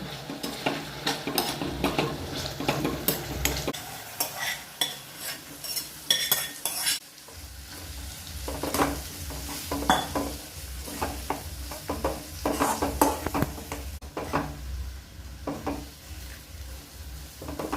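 A spoon scrapes and stirs peas coated in masala for a samosa filling in a hot pan, a close, continuous sizzle with repeated metallic scraping strokes throughout.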